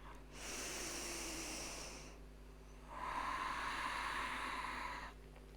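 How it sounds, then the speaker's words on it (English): Slow, deep ujjayi yoga breathing with an ocean-like rush: a long inhale and a long exhale, each a steady close-up hiss, with a short pause between them and no talking. "start anchoring your mind into the sound of your breath"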